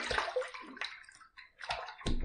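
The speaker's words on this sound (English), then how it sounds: "Let's rinse." A shaving brush is rinsed under running water, with bursts of splashing and sloshing that stop and restart, close and fairly quiet.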